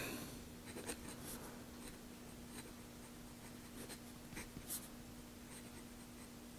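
A Baoer 507 fountain pen writes on paper: a faint, continuous scratchy nib sound close to the microphone, with light strokes and occasional taps, under a steady low hum.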